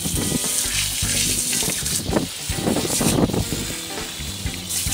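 Hot water runs steadily from a tap as hands are washed under it, a close, continuous splashing gush with small bursts of louder spatter.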